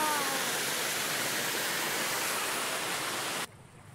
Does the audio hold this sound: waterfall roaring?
yes